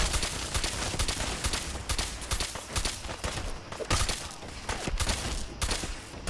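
Near-continuous gunfire in the video game Fallout 4, rapid overlapping shots crackling loudly throughout with brief dips between bursts.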